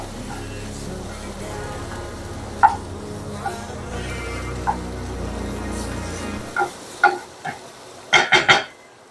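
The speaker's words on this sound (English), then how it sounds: "stir this up, make sure I'm not burning anything. Oh yes, it's starting to caramelize." Food caramelizing in a pan sizzles softly while a utensil stirs and scrapes, with occasional sharp clinks against the pan and a cluster of quick knocks near the end, all fairly close and without talk.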